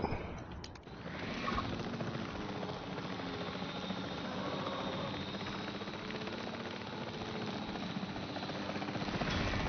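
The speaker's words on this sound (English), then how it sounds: "Now let's get that helicopter out." Helicopter rotor and engine drone in the Jurassic World Evolution 3 video game, a steady whirring buzz holding at moderate level for the full length after a brief click at the start.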